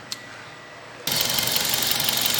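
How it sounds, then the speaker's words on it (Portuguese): A Toyota Corolla engine with a reported engine noise turns over and settles into a steady, loud running drone after a moment of quiet, with a faint click at the start. "Vamos funcionar o motor."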